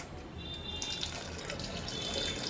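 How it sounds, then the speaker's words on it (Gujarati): Tamarind water is poured into simmering Punjabi chole gravy in a home kitchen, making a soft, steady liquid trickle and hiss with no voices. "થોડું આપણે આંબલીનું પાણી નાખીએ છીએ"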